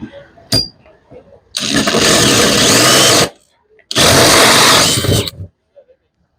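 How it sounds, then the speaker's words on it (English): A power drill with a Spider hole saw kit cuts an angled hole in two loud, steady bursts of whirring and grinding, each a second or two long, separated by a short pause. "Another function of this hole saw kit is the ability to drill angled holes."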